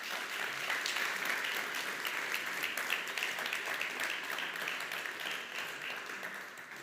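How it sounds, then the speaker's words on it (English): Sustained audience applause at an AI startup demo day in Berlin, a dense, even wash of many clapping hands continuing for several seconds without letting up. "A big applause for Karina Miet."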